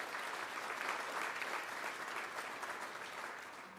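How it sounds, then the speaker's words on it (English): Brief, fairly faint audience applause at a sports hall of fame ceremony dinner, thanking the caterers, with steady crowd clapping that fades slightly at the close. "let's give them a round of applause."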